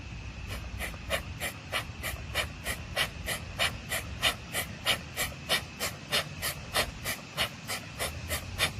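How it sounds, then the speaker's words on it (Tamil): Yoga breath-control practice through alternate nostrils produces about twenty quick, evenly spaced breaths through the nose, each a short, sharp airy puff. The breathing is close and steady in rhythm, with no talking. "ஒரு மூக்கு அடைச்சிட்டு ஒரு மூக்குல மூச்சு விடுறீங்க மறுபடியும் ஆப்போசிட் மூக்கு அடைச்சிட்டு ஆப்போசிட் நாஸ்ட்ரிலில் வந்து மூச்சு விடுறீங்க"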